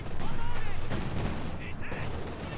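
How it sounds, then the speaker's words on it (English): An anti-tank gun fires on a T-34 tank amid dense battle noise in Company of Heroes 2, with heavy low rumble and sharp reports over a continuous roar and a voice talking over it. "AT gun really putting work into that T-34"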